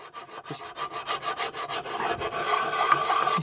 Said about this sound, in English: sand all the rubbish that you'd left behind